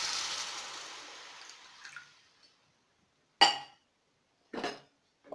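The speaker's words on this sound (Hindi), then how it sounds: "अब मैं इसमें 2 कप पानी डाल दूंगी" Two cups of water pour into a pan of Maggi masala ingredients with a rushing splash that fades out over a couple of seconds, followed by a few sharp metallic clinks of utensils against the pan.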